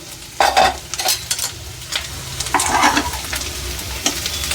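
Coconut pieces fry in a pan for a coconut rice dish, with a steady close sizzle broken by bursts of scraping as they are stirred.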